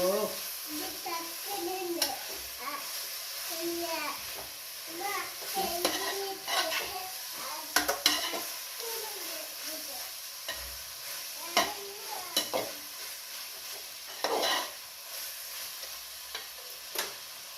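A spoon stirs beef biryani masala with garlic-ginger paste in a pan, giving scraping and sizzling strokes with frequent clinks, while a voice and a child's chatter come through intermittently.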